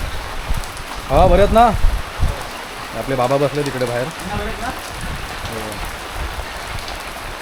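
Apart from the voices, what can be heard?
rain falling on the village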